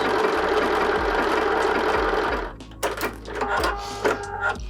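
A sewing machine stitches continuously around a holiday wreath design on a cushion cover, a fast even mechanical whir that runs steadily, then breaks into short stop-start bursts of stitching with brief pauses between.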